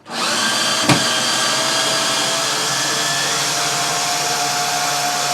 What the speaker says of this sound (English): Or you can use an electric screwdriver just to take the screws out.